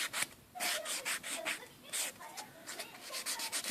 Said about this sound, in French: je vais griffer un petit peu l'ongle. Donc, je passe un coup de bloc polissoir.